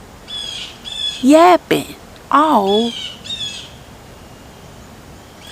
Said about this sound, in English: And why this bird is yapping